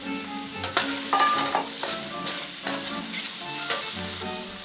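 Shiitake and Paris mushrooms stir-fry in hot oil in a pan, a steady close sizzle broken by scraping stirs of a utensil against the pan.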